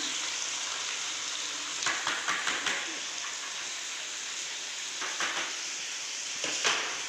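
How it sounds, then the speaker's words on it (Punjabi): Green beans and potatoes fry over low flame in a pan, giving a steady crackling sizzle throughout with a few brief clusters of stirring scrapes near the middle and end. "ਆਪਾਂ ਫਲੀਆਂ ਤੇ ਆਲੂ ਨੂੰ 15 ਮਿੰਟ ਵੀ ਭੁੰਨ ਸਕਦੇ ਹਾਂ ਲੋ ਫਲੇਮ ਤੇ"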